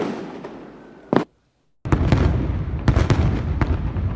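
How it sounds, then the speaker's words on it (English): A fireworks sound effect added in a video editor: dense crackling bursts, loud and close, broken by a sudden second of silence before the booming, crackling barrage resumes. "Maybe just reduce the decibels of fireworks."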